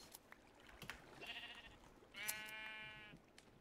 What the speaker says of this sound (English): I pretty much need all of these sheep to be sheared.